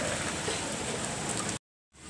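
Steady rain falls outdoors during a Delhi power cut, a dense, even hiss of drops on surfaces that holds constant, then cuts out briefly before resuming.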